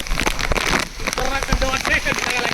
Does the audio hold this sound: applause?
no